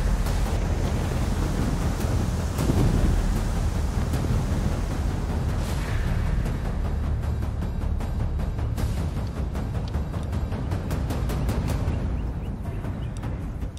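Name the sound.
strong wind by the Ebro river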